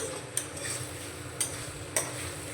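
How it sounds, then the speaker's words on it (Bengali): Soybean curry with yogurt stirred in a pan over a medium gas flame, a steady low scraping sizzle with three sharp clinks of the spoon against the pan rim. "নাড়াচাড়া করে একটু মিশিয়ে নেব"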